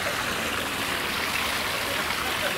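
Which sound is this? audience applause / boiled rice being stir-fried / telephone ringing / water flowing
water flowing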